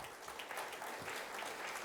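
Audience applause at an agricultural seed summit in India, a steady dense wash of clapping across the whole stretch, moderately loud, with no clear voices over it.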